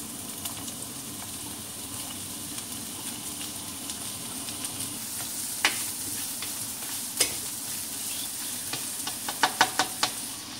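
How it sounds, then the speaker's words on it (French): Chopped onion and garlic sauté in a hot frying pan with a steady soft sizzle, and occasional sharp scrapes and clicks of a utensil stirring, heard alone with no talk. "On laisse un peu revenir l'oignon et l'ail"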